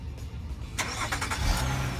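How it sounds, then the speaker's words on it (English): A car engine cranks and catches after a remote-start command from an aftermarket alarm system, a short close burst of starter and engine noise settling into a running rumble. "I'm going to hit the remote start, so the car will crank right up."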